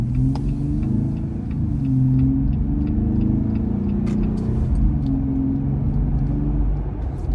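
A Jeep Gladiator's engine and exhaust rumble steadily while the truck slows to a stop sign, low and continuous with a few faint ticks over it and no talking.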